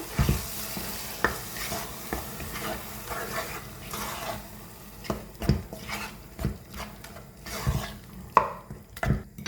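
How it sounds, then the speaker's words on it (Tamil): Chicken kothu is stirred and mixed in a frying pan, giving a low sizzle under sharp metallic scrapes and taps that come in irregular bursts, close up and with no talking. "நல்ல வடிவாக மிக்ஸ் பண்ணி விடுவோம்."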